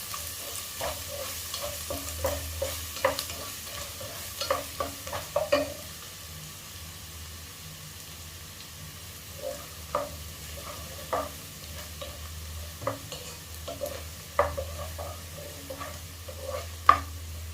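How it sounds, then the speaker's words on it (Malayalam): Kerala-style beef heart roast is stirred in a pan, a soft sizzle underneath with repeated scraping and clacking strokes of a spoon against the pan, coming in irregular bursts, close and fairly quiet. "എല്ലാം കൂടി ഇളക്കി യോജിപ്പിച്ച് കൊടുക്കുകയാണ്"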